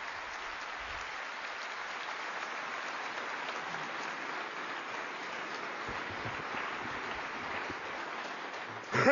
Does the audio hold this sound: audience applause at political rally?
yes